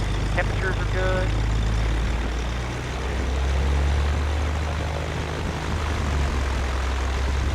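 A small propeller airplane runs up its engine before flight, a loud steady drone with a low throbbing hum that rises slightly midway, while a voice talks over it.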